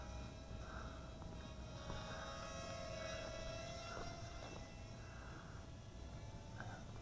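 Bayangtoys X9 quadcopter drone yawing in low mode outdoors, a steady whirring motor hum with faint tonal whines rising and falling, moderately distant and alone.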